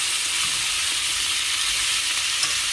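Minced pork sizzles steadily in a hot pan while being stirred with a little salt and sugar for tortang ampalaya, a continuous close, even frying hiss with no talking.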